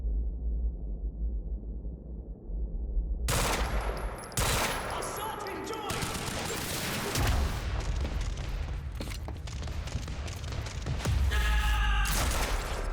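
Gunfire in the video game Quantum Break: after a muffled low lead-in, loud bursts of shots and heavy impacts erupt and continue, with occasional booms.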